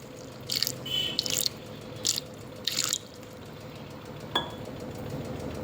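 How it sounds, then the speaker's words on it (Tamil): Water is poured into a mixer jar for amla juice in a few short splashing bursts, with a faint drip after a pause and a quiet background hum. "தேவையான அளவு வாட்டர் மிக்ஸ் பண்ணிக்கோங்க"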